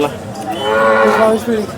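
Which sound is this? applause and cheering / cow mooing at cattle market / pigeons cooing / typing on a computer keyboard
cow mooing at cattle market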